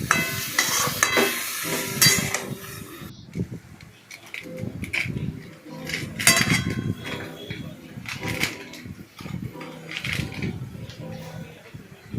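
Vegetables are stirred in a pan with a little water: drumstick, potato, eggplant, green banana and lentil dumplings. Close, loud scraping and sizzling comes in uneven bursts, with brief quieter pauses between strokes.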